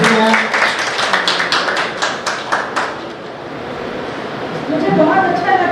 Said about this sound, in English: We will give a round of applause for director ma'am.